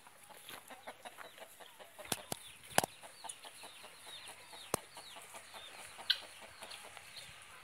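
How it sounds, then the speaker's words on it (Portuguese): Roosters crowing and hens clucking in a busy backyard, with several sharp calls from Indian gamecocks standing out over a steady background of bird noise. "Uns galos."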